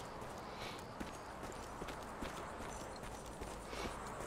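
Horse hooves clip-clop in the video game Evil West, a faint, steady stream of hoof beats under a dense background wash, heard alone without clear talk.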